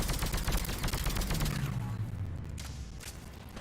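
Sustained rapid gunfire in the video game Mass Effect 3, a dense rattle of automatic shots for about two seconds, then thinning to scattered bursts with a low mechanical whine underneath.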